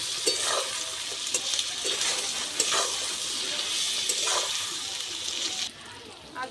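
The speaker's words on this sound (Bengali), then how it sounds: "এবার আমি সব কিছু একসাথে ভালো করে কষিয়ে নেব।" Spiced ingredients with turmeric and salt sizzle in a pan while a spatula stirs them, scraping in several distinct bursts over a steady frying hiss, close and fairly loud.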